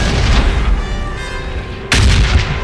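Bombing-zone explosions in the PUBG battle royale game, heavy booming blasts rumbling continuously, fading slightly before a sudden loud new detonation near the end, with no talking.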